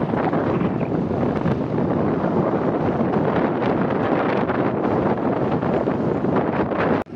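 Strong wind roars across the microphone while riding a motorbike along a green rural road with red soil, a loud, continuous buffeting rush with no pauses.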